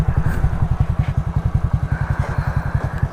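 A motorcycle engine idles close by, a loud, even, rapid thumping pulse with a slight clattery edge that runs unbroken throughout.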